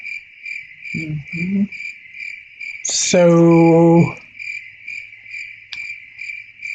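Crickets chirp in a steady, even pulse from start to finish, with a short burst of speech early on and a loud harmonic tone partway through.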